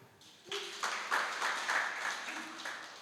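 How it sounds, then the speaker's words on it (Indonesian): A church congregation at a Sunday worship service gives a short, moderate round of applause, with a voice sounding just before it and again near the end. "Tepuk tangan bagi Tuhan."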